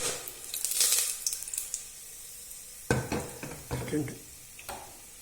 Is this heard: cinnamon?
yes